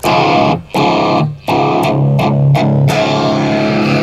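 Loud, heavily distorted electric guitar chords through a TANK-G multi-effects unit, sustained with brief breaks between strums and a bright, saturated tone.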